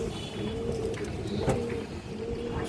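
Fancy pigeons kept for sale coo softly in low repeated murmurs against a steady background hum, with no talking.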